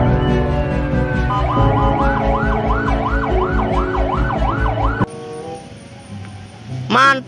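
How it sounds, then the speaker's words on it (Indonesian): A toy ladder fire engine wails a loud, rapidly rising and falling siren over a steady electronic tone, cuts off abruptly, then gives a brief final burst after near-quiet. "ini truk pemadam kebakaran tangga"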